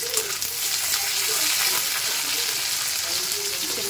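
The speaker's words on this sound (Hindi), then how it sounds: "तो गाइस अब थोड़े प्याज ब्राउन हो गए हैं तो हम इसे साथ में डालेंगे टमाटर और ज़रा सा अदरक के टुकड़े" Onions, tomato and ginger fry in a pan with a steady, dense sizzle that holds at an even loudness throughout, with no talking over it.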